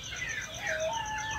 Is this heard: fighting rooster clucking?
yes